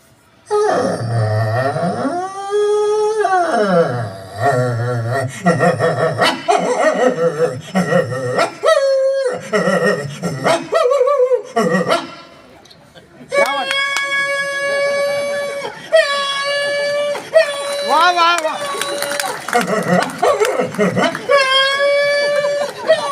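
A voice imitates dogs, with drawn-out wailing howls and whines followed by a run of shorter yelps and barks, loud and close, with a brief pause midway.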